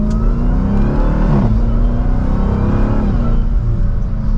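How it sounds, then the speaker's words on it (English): A 2023 Dodge Durango SRT Hellcat family SUV accelerating hard from second gear on the road, its engine roaring loudly and steadily with a rising growl throughout, no voices. "let's go ahead and get this family Hellcat out on the road. And from second gear, here we go."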